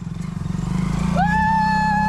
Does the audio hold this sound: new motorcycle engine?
yes